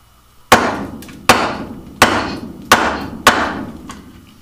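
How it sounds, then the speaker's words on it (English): Five sharp, evenly spaced mallet blows strike a chisel while a long mortise groove is chopped by hand with hand tools, each hit ringing briefly and decaying before the next, close and alone with no talk. "give it a couple good whacks with the mallet."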